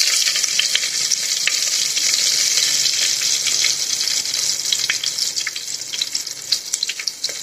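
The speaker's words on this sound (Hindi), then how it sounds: "हरा मिर्च डाल देंगे।" Chopped green chilies frying in a pan for Patanjali mixed dalia, a loud, steady hissing sizzle with crackling pops that grow busier toward the end, close up.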